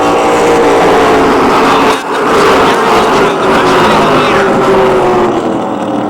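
Late model stock cars race side by side at Motordrome Speedway, their engines roaring loudly with a shifting pitch as they pass, under an excited race announcer.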